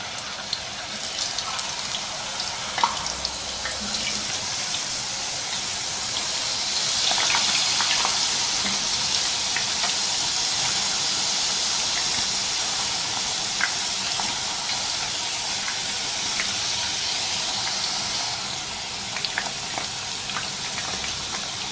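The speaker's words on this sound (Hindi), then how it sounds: "तेज़ आंच के ऊपर कढ़ाई रखी है, तेल गरम हो चुका है। अब इसमें ये चिप्स डालेंगे।" Sliced potato chips fry in hot oil in a wok over high heat, giving a steady, loud hissing sizzle that runs on without a break, with scattered pops and crackles.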